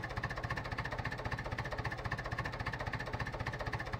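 A tractor engine idling in Farming Simulator 2011, a steady, rapidly pulsing mechanical chug with a thin high whine above it, even and close with no talking.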